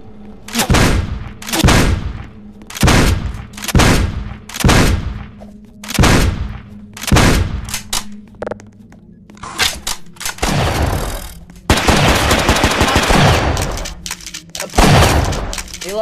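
Gunfire in the Madness Combat video game: a string of about a dozen loud, evenly spaced shots, each with a sharp crack and a short tail. A burst of rapid, rattling fire with a shattering crash follows, then a final shot.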